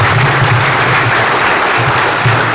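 Audience applause for the President at an official opening ceremony in Kenya, a dense, steady roar of many hands clapping, loud and close for a couple of seconds with no talk.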